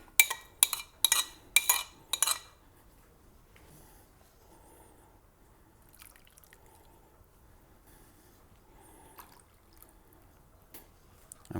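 Soy sauce, sugar syrup and rice vinegar being mixed together in a bowl: five quick, crisp clinks of a utensil up front, then a long stretch of faint, scattered stirring and soft squishy taps.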